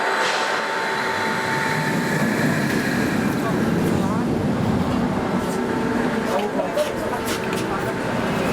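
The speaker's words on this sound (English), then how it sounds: "Looks like they might be sending another train" A steady rumbling roar of a roller coaster train running along its track at Blackpool Pleasure Beach, sustained throughout, with crowd noise and faint voices in the background.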